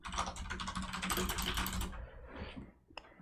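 Rapid clattering keystrokes on a computer keyboard as terminal commands are entered for a hacking exercise, close and steady for about two seconds, then a short pause and a few final taps.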